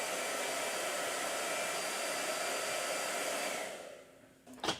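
A blow dryer runs in a steady, loud whooshing roar that holds evenly, then winds down and switches off near the end, followed by a brief clatter.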